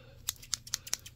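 Scissors snip several times in quick succession during a mock ASMR medical exam, sharp close metallic cuts over a quiet background.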